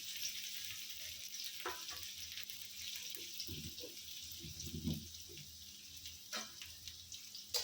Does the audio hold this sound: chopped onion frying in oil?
yes